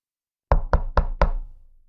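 Four evenly spaced, firm knocks on a house door, close and clear, with a short ring-out after them and silence before.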